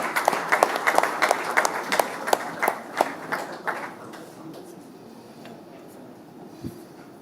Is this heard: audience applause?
yes